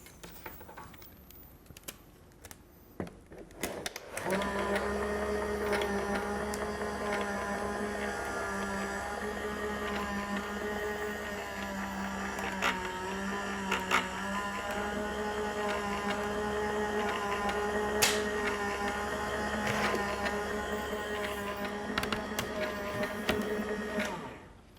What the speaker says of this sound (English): run that through the die cutting machine